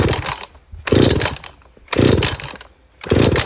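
A Husqvarna 562XP chainsaw up close, revving in four loud bursts of about half a second each, dropping to near quiet between them.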